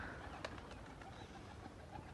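Three or four pigeons perched together coo softly, faint low calls over quiet background hiss, with a brief sharper sound near the start.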